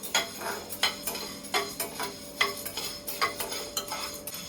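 Whole black peppercorns dry-roasting in a pan for rasam powder, stirred with a spoon: a run of quick scraping, rattling strokes that come close and fairly clear over a faint, steady hiss, with no talking.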